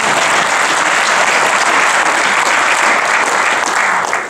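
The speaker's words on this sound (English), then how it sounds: "A round of applause would be appreciated at this time." An indoor audience claps steadily in sustained, even applause that holds at full strength for several seconds before starting to fade at the end.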